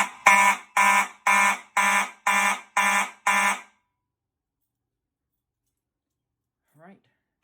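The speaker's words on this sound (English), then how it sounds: "And the alarms will only just sound for just a few seconds and then shut right back off." A Fire-Lite MS-9600UDLS fire alarm system sounding during a walk test: seven loud, evenly spaced harsh horn blasts in quick succession, then silence and a brief faint sound near the end.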